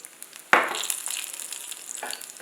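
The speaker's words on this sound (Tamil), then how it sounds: "ஒரு ரெண்டு டேபிள் ஸ்பூன் நல்லெண்ணெய் விட்டுருக்கேன் முதல்ல கடுகு உளுத்தம்பருப்பு ரெண்டு காஞ்ச மிளகா" Mustard seeds, urad dal and dried chillies drop into hot sesame oil with a sudden crackling burst, then settle into a steady, close sizzle and spatter with no talking.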